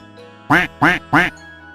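Three quick, evenly spaced quacks from a duck at a fair ring-toss stall, close and clear against a quiet background.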